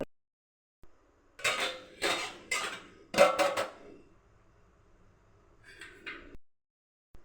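A metal lid goes onto a pot of tomato rice on a turned-off stove, with several clattering metallic clanks of lid and pan in a row, then a brief scrape and a softer knock near the end.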